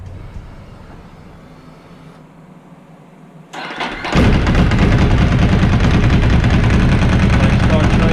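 A Ducati 749 motorcycle, just fitted with a new voltage regulator and its battery reinstalled, starts up after a quiet stretch and then runs at a loud, steady idle close by.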